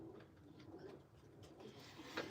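Pigeons, fancy flying breeds such as mirror-tailed Arab pigeons, coo softly in a loft, low murmuring calls repeating over steady background noise with no talking.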